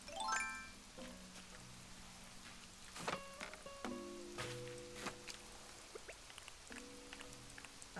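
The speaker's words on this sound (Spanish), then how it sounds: "Pero bueno, ya que está lloviendo" Steady rain falling in the video game Animal Crossing New Horizons, a soft continuous patter with occasional chimes, plucked game-music notes and small item sounds layered over it.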